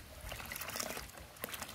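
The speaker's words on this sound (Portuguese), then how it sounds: "Mandando água limpa para dentro do cano." Clean water pouring and splashing into a drilled pipe well as it is flushed out, a continuous close trickling and gurgling outdoors.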